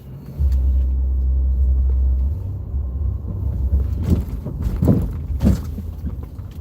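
Cars pull into a gas station: a deep, loud engine rumble close by that fades, then softer thumps and motion noise, with no speech.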